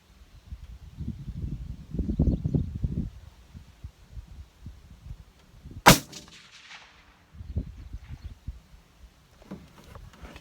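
A CVA Hunter rifle fires one sharp, loud shot outdoors, its crack followed by a short decaying echo, amid quiet rustling and low handling noise before and after.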